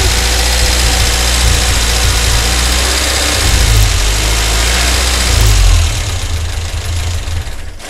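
An old car engine runs steadily with its choke partly engaged, a loud continuous low rumble that swells briefly twice as if revved slightly, then settles back to a rough idle.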